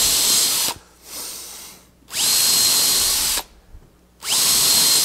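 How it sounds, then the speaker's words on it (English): A power drill whirs in three loud bursts, with short quiet pauses between them, pre-drilling holes one after another into reclaimed pine stair treads. "So that's all I do to pre-drill all my holes."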